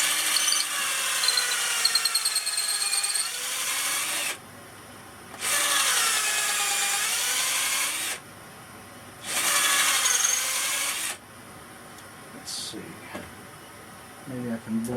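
A drill grinds into a wooden branch being made into a flute in three long sustained bursts separated by quiet pauses, close and steady, followed by a few light scrapes.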